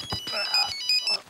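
A mobile phone ringtone plays from inside a pocket, a short melodic electronic tune of a few bright notes mixed with brief indoor voices.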